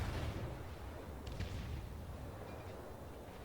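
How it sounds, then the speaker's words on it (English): Warship guns firing in the World of Warships naval combat game, heard as a low, muffled rumbling boom that fades slowly, with no voices present. "I'm going to shoot at this York."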